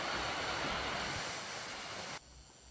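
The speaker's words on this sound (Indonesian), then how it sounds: "Dan dari sini kita bisa melihat sebuah curug ya atau air terjun kecil." Small waterfall on a mountain trail on Mount Ungaran, a steady broadband rush of falling water heard close and alone, cutting off abruptly near the end.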